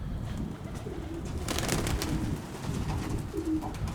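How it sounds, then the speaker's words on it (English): Racing pigeons in a young-bird loft coo softly, with low repeated coos and a few rustles close by, no talking. "The female birds are back, as you can see."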